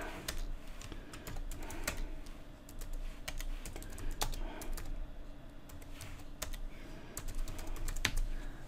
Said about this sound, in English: let's just go ahead and type some words